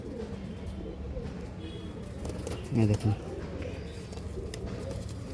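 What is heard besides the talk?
Madras pigeons cooing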